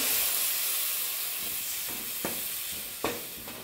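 Ground masala paste frying and being stirred in a pan for spicy bread masala: a close, steady hiss and sizzle, fading slightly, with a few sharp scraping taps of the spoon.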